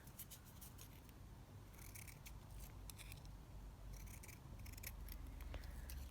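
Scissors cut a word out of a printed book page for a junk journal, a quiet run of small papery snips and rustles, close and soft with no talking.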